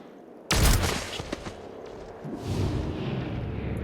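Breach gunfire in the tactical game XCOM: a sudden loud burst of shots, then a few scattered reports and a rumbling tail as the noise fades out.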